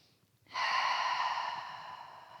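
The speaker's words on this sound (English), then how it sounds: "Take another breath." A single slow breath during a gentle yoga practice, a soft airy rush that begins abruptly after a short pause and gradually fades, close and alone.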